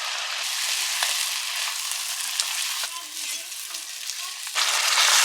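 Chicken frying in a pan with freshly ground masala and whisked sour yogurt gives a steady, dense sizzle with occasional stirring scrapes, close and moderately loud, swelling near the end.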